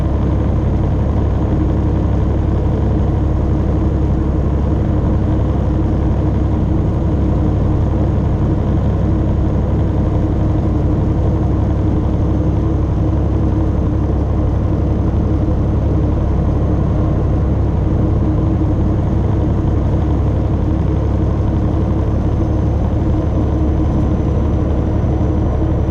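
A truck engine holds a steady low throttle around 1400 RPM, a constant loud droning rumble with an even hum throughout, no speech over it.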